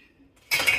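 Metal pots and pans being stacked and put away in a home kitchen cupboard, a short bright clatter and clink of cookware starting abruptly after near-silence.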